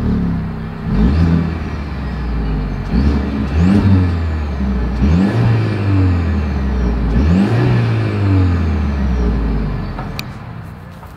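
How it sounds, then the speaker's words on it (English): Close exhaust note from a 2024 Mercedes-Benz GLE 350, revved several times in a row, each rev rising in pitch and then falling back to a smooth idle. The engine plays alone, with no talk. "As always, here is that exhaust clip."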